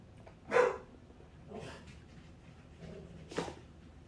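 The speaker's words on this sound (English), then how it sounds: "I wonder what she's barking about." A dog that has been unwell barks from a short distance in a home, giving three separate, fairly faint barks spaced about a second apart.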